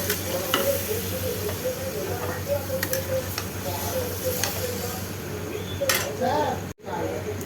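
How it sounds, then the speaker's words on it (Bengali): Browned Andhra-style chicken with coconut sizzles in a pan while being stirred, a close steady frying hiss with scraping and utensil clinks, under a person talking. "মাংসটাকে লাল লাল করে একটু ভেজে নিয়েছিলাম। এবার এটা একটু ভালো করে কষাবো।"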